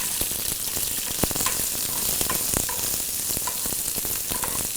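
Slit green chilies and finely chopped ginger sizzle steadily in hot oil for a Kerala dish, with a dense crackling hiss and scattered sharp pops and stirring scrapes throughout, close up and without talk.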